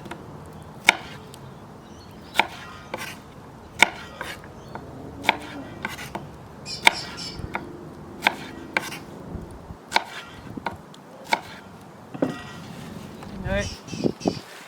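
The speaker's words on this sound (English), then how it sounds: "Just going to rough chop these" Beef and red wine stew ingredients being rough-chopped outdoors with a knife on a board. Sharp, irregular knocks repeat every second or so over quiet outdoor ambience, with a person speaking at times.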